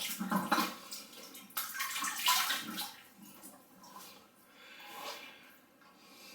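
Cold tap water in Scotland runs steadily into a basin after a shave, a continuous close splashing rush that shifts slightly in tone as hands move through the stream.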